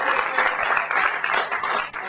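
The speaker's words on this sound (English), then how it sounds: "Give these lovely ladies a round of applause." An audience applauds at a magic show at the Edinburgh Fringe, dense steady clapping from many hands, loud and close, filling the whole short stretch.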